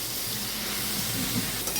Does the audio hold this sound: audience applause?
no